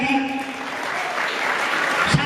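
An audience at an Islamic boarding school ceremony claps briefly, a short burst of crowd applause with some voices and a hum mixed underneath.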